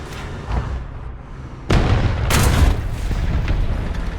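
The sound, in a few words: tank cannon firing a shell in video game War Thunder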